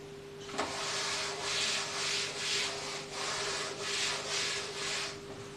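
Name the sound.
rubbing chalk off a board with a duster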